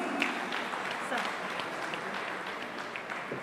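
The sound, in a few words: applause welcoming Dr. Suresh Havare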